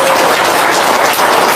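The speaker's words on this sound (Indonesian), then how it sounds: "Tuh, tepuk tangan dulu." A live audience claps in a steady, dense burst of applause that fills the whole moment without a break.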